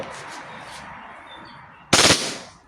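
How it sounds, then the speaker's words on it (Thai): An Army R18 Glock 18c airsoft gas pistol fires one short, loud full-auto burst of rapid cracks after a stretch of quiet. "ยิงได้ปกติลูกหมดสไลด์ค้างนะครับเวลายิงออโต้"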